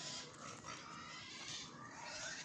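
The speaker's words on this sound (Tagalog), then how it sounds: "Yung baboy. Kumakain din pa." Pigs feed close by in a rural setting, giving a steady, dense mix of grunting, snuffling and chewing noise throughout, quiet overall and with no voices.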